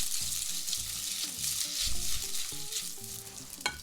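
Gochujang and oil sizzle loudly in a hot pan for vegan cream pasta, a close, steady crackling fry with stirring scrapes and a sharp clack near the end.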